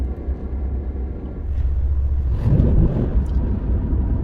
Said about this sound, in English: This engine sounds fantastic, but it's not quick